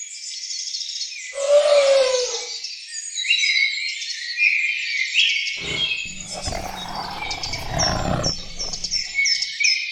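Birds chirp and tweet in high, bright bursts throughout, with a louder, busier stretch of calls in the second half over some low rumbling noise.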